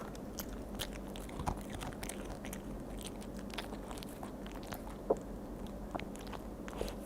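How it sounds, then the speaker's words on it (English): An animal chews and crunches steadily, close and fairly quiet, with repeated bites and crunches over a low room hum and no talking. "I got quiet a minute so you could hear his cute chewing"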